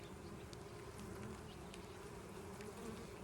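Honeybees buzzing steadily on a hive frame holding young bees, pollen and brood, a dense, continuous drone close by with no voices.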